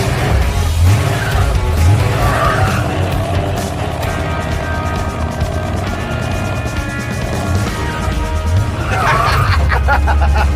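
A 1968 Pontiac Firebird engine roars as tires squeal and screech in a prolonged burnout, loud and close, with the squeal rising and falling.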